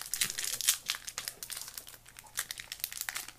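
Close, crackly crinkling and tearing of plastic wrapping as tape is peeled off a Pokémon Platinum trading card tripack, a quick run of sharp rustles with no talking.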